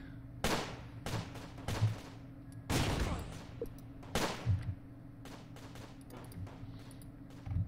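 Scattered infantry rifle and machine gun fire in the World War II game Close Combat, set around Caen, several sharp bursts and single shots at irregular intervals, moderately loud over a steady low background drone.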